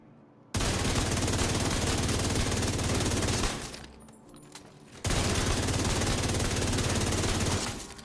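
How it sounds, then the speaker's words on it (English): St. Elmo's exotic rifle in The Division 2 video game firing long, loud sustained automatic bursts, with one burst of a few seconds, a brief pause, then another long stream of rapid shots. "I'm gonna swap to the St. Elmos, and we're gonna shoot like hell."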